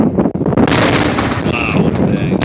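A firework detonates with a loud, close bang near a dock, its blast and crackling rumble filling the whole moment without any voices.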